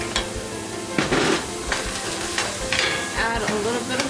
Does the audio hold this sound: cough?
no